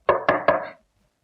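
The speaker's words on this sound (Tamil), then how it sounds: "சமயத்துல கதவு தட்டுவாரு." Three quick, evenly spaced knocks land on a door in a classic Tamil film, close and sharp, followed by silence.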